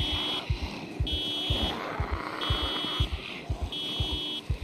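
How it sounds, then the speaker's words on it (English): A car alarm sounds in the zombie survival game Project Zomboid, a repeating high electronic tone pulsing in bursts over a low rhythmic thumping, steady and moderately loud with no talk. "Apparently somebody's car alarm just went off."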